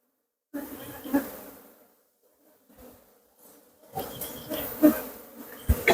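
Thai cavity-nesting Asian honey bees buzz around a hive, close, uneven bursts of droning with short quiet gaps between them.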